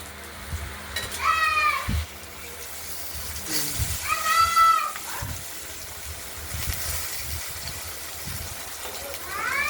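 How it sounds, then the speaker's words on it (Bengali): Stuffed ash gourd slices filled with poppy seed and chili paste fry in a pan, a constant low sizzle under occasional spatula knocks, with a cat meowing several times in the background. "এবার ভাজা হচ্ছে, দেখতে থাকুন।"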